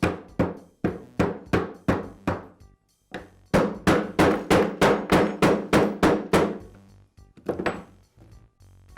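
A socket taps a bearing cup into place on a Husqvarna trimmer, a rapid series of sharp metallic hammer strikes in rhythmic bursts, loud and close, with brief pauses between runs.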